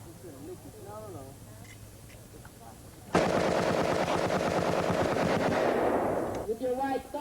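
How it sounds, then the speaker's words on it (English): Rifles fire on a military training range at a 1991 Fort McClellan chemical battalion graduation, a sudden loud sustained volley of rapid, overlapping shots lasting about three seconds, with a voice heard before and after. "Change the selector lever from safe to fire and commence fire."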